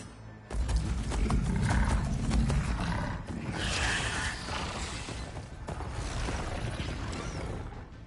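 Machine mounts gallop in Horizon Forbidden West, a dense, loud wash of mechanical rumbling, creaking and roaring that starts abruptly and continues without pause, with no voices.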